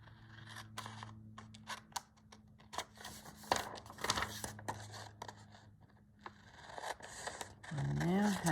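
Scissors snip and scrape through paper while cutting out an envelope shape for a junk journal, a series of short crisp cuts close to the mic, with a voice speaking and some handling noise.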